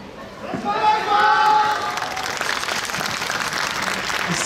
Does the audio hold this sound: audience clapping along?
yes